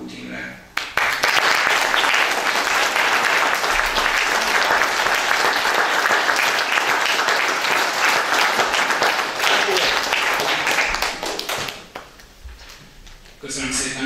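Sustained applause from an audience at a Jobbik party public forum in Törökszentmiklós, Hungary, a loud, steady burst of clapping lasting about eleven seconds before it fades and a voice starts to speak.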